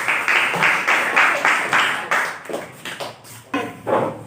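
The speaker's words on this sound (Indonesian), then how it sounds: "tepuk tangan untuk kelompok 3" A burst of group clapping for a student group in a classroom, loud and steady at first, then thinning into scattered claps before a brief final surge.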